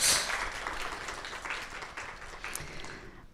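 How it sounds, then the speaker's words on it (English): Modest applause from a symposium audience in a room, strongest at the start and then thinning into a light, fading patter of scattered claps. "Give them a round of applause anyway."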